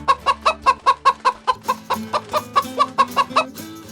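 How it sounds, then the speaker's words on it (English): A hen clucks in a steady, even rhythm, more than a dozen short close clucks in a row, with soft sustained music underneath. "Soon enough, a chicken came along."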